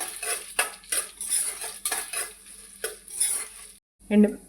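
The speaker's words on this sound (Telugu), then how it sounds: "అదే బాండిలో మనం కట్ చేసి పెట్టుకున్న ఎండుమిరపకాయలని ముక్కలు చేసుకున్నాం కదండి, అవి కూడా వేయించుకుందామండి" Dried red chilli pieces fry in a kadai while a metal spatula scrapes and stirs them, giving repeated clinking strokes over a light sizzle, with a brief pause before a final scrape.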